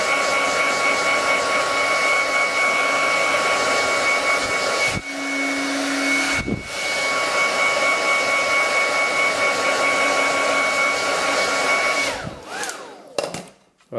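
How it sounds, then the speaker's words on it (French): A hair dryer heating the edge of a Samsung Galaxy XCover 4 phone to soften the glue under its glass, a steady close whooshing drone that cuts briefly twice, then stutters and stops near the end. "on va chauffer le pourtour à l'aide du sèche-cheveux de façon à ramollir la colle"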